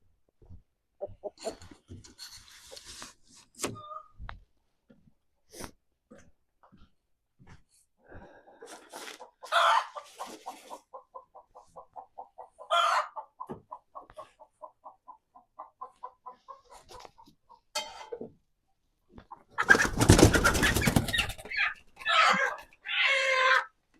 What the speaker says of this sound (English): we have about 15 chickens sleeping in here